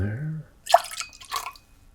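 Sweet vermouth pours into a cocktail glass or tin in two short, close splashing bursts of liquid, alone and quiet.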